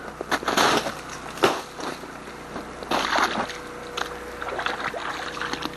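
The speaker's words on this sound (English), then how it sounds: "This is the outflow from the pumps into the ditch." Water gushes steadily from a pump outflow into a ditch after an ice storm, a continuous rushing and sloshing flow heard nearby, with no talking.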